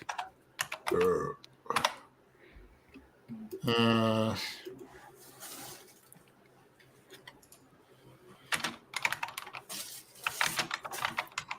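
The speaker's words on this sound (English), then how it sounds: "Typing alert." Rapid clicking keystrokes on a computer keyboard come in bursts, nearby and clear, with people talking in between and over the typing.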